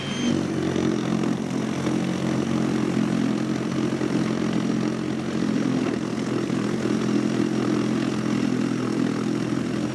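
Milwaukee cordless snow blower throwing wet, slushy Michigan snow into a ditch, a steady droning motor hum with a churning whoosh that holds constant and fairly loud throughout.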